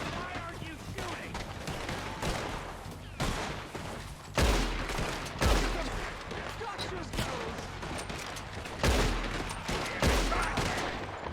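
Bursts of gunfire in a Red Dead Redemption 2 shootout, repeated rifle and pistol shots at uneven intervals, some loud and near, others fainter, with voices in the background.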